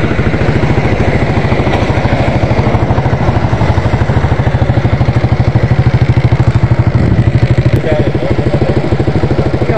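A motorcycle engine runs steadily and loud throughout, with a close, even pulsing beat and some mechanical clatter, apparently idling or at low revs with no break.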